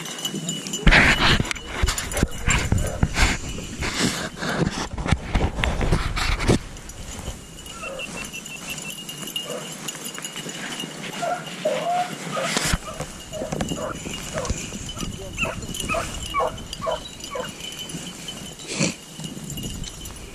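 A pack of beagle hounds outdoors in the country pant and scuffle nearby, with sharp bursts of barking and movement, some whimpering, and men calling out at times.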